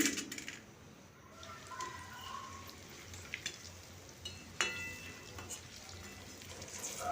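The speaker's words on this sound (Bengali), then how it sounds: "এভাবে উল্টি উল্টি আমি বাকিগুলো ভেজে নিচ্ছি" Cauliflower pakoras frying in hot oil in a home village kitchen, a soft continuous sizzle with a few sharp clinks and scrapes as pieces are turned.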